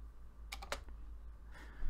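Computer keyboard typing while writing CSS code, a short burst of a few quick clicks in the middle, fairly near and soft, with no talk.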